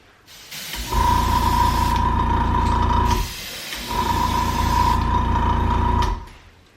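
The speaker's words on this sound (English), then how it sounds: "we're going to spray from the top of this bait and let the overspray work down" Two long bursts of loud, steady hissing airbrush spray painting a shad jerkbait lure, with a whining motor tone, each lasting a couple of seconds with a short pause between.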